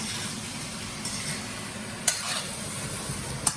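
Shrimp stir-fry in a wok for shrimp and veggie fried rice, giving a quiet, even sizzling hiss broken by two brief sharp metallic clinks, close by with no talk.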